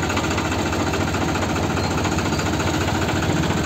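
A tractor engine idles on a farm after cultivator work, a loud, steady mechanical drone with a rapid knocking pulse throughout and no speech.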